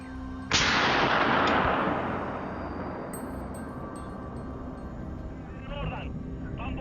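A single loud, close gunshot during a wild boar hunt in a forest cracks out, then rolls away in a long fading echo over faint background sounds.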